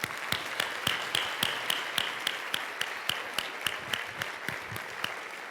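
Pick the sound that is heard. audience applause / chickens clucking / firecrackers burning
audience applause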